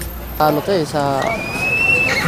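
A thin, underweight pet horse neighs in several close, loud whinnies that rise and fall in pitch, followed by a long, thin, high tone.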